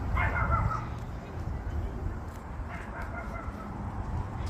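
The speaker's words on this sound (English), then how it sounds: "There's the dog." A dog met on a nature walk gives several soft, distant barks and yips under steady outdoor wind noise and rustling, with people talking nearby.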